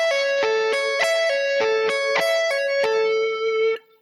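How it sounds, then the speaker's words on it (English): Distorted electric guitar sweep-picking a major arpeggio in repeated clear note patterns, each run sustaining before the next, played loud and alone. "Now I'm going to show you the major arpeggio."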